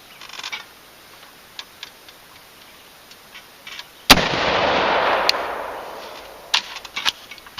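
A single 5.56 rifle shot fired through a VERS50 silencer cracks sharply, then its report decays over a few seconds outdoors, with faint clicks and rustles before and after.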